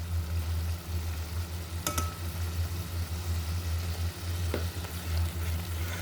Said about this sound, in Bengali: মশলাটা নেড়ে চেড়ে সুন্দর করে ভালোভাবে কষিয়ে নেব।